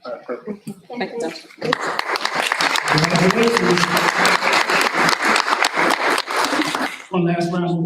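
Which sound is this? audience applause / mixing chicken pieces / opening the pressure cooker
audience applause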